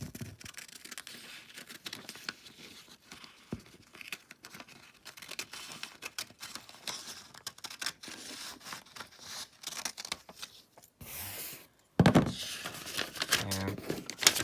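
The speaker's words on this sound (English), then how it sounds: "Then we can take a pair of scissors," Scissors snip through a sheet of paper while an origami bunny is being made, with short crisp cuts and crinkling mixed with paper handling, then a louder burst of cutting near the end; no talk.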